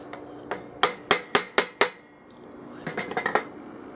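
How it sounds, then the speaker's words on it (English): A hammer drives a chisel into stone for a Zen garden: six crisp, ringing metallic strikes in an even rhythm, a short pause, then a quicker burst of lighter taps, all close and with no talking. "And now with the chisel, just take out the bulk."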